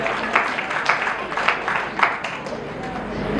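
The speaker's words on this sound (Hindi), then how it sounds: "तालियां के लिए जोर से" Enthusiastic applause from a devotional gathering at a Sanatan Dharma temple during a Vrindavan katha festival, steady clapping with bursts of louder claps, crowd noise and babble running underneath.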